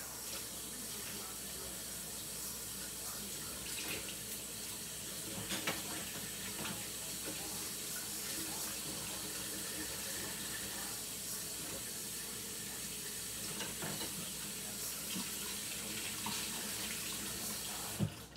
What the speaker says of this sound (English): let me rinse out this freaking washcloth.